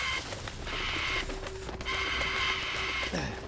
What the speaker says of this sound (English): this printer so noisy